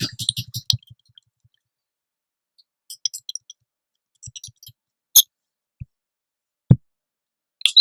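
Computer mouse clicks on a laptop during software installation: a quick cluster of sharp clicks at first, then scattered single taps and clicks spread across a quiet background, close and crisp with no voice.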